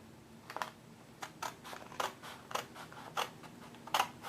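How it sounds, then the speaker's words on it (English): Scissors cutting a paper card, a run of sharp, separate snips about every half second, close and clear, with no talk. "I am going to just cut it out with the scissors"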